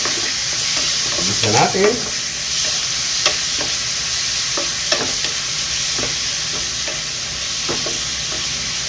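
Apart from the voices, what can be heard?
pork meat being added and frying in a pan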